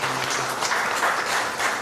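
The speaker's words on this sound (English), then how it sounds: "I request all of you to give a round of applause to NABARD." A crowd applauds at the launch event for Agri Udaan 5.0, with dense, even clapping that stays loud and unbroken throughout a short burst of a couple of seconds.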